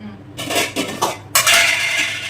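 Hard lumps of rock sugar clatter and clink into a metal cooking pot while making honey gooseberries, in a few quick bursts followed by a longer rattling pour.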